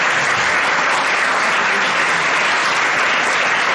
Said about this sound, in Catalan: Per la qual un aplaudiment a Aleix.